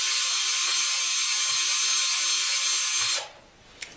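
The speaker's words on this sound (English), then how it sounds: "A high-speed drill will really clean it up." A high-speed drill buffs the gear housing of a two-section hydraulic pump, a loud steady high-pitched whine that runs continuously for about three seconds, then stops abruptly, followed by a faint click.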